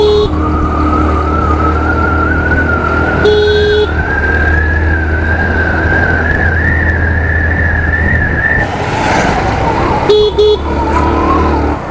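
A Hero Maestro Edge scooter riding through narrow lanes, its steady engine hum loud and continuous throughout, with a rising whine and brief horn-like tones over the drone.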